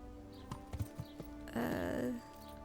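A horse ridden in Kingdom Come: Deliverance, its hooves giving a few soft clip-clop steps, followed by a brief louder snort or whinny-like burst, fairly close.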